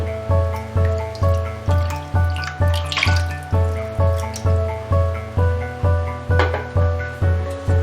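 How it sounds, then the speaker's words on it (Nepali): Water is poured into a pan of sugar to make syrup for lakhamari sweets. The close splashing trickle pulses in a steady, regular rhythm, and no one talks. "र यसमा मैले राखेँ 1 कप पानी।"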